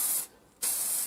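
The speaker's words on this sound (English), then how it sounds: "This was just ordinary matte lacquer spray" A spray can of ordinary matte clear lacquer hisses onto a prop pulse rifle in two close, steady bursts separated by a short pause, loud and alone.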